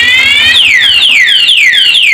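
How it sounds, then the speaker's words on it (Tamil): A loud electronic anti-theft alarm on a Yamaha R15 V3 motorcycle: a steady multi-tone beep, then a repeating falling whoop siren cycling about every half second, alone with no talk. "ஃபஸ்ட்டு அலாரம் வந்துடும்."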